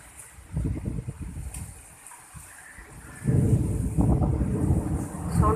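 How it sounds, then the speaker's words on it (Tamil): Heavy rain with gusting wind, a broad noisy wash that swells louder and denser in the second half, with brief rumbling bursts early on, at early morning during a thunderstorm with lightning. "மழை, சில்லுன்னு மழை, அப்படியே காற்று."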